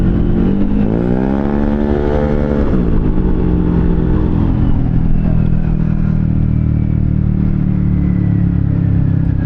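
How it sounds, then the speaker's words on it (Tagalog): A motorcycle engine runs steadily up close, rising briefly in pitch early on before settling into a loud, even drone with a slight clatter, no talk over it. "ang ganda ng tunog ng motor niya, hindi sobrang ingay"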